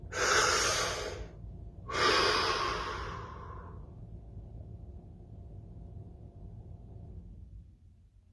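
A deep breath drawn in and let out during a guided practice session: a long airy inhale, a brief pause, then a slower exhale trailing off into quiet room tone, close and clear with no talking.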